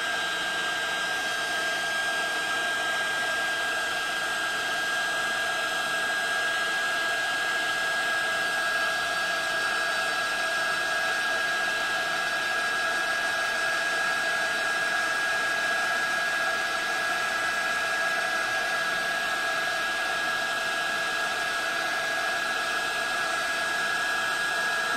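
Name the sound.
heat embossing tool heating up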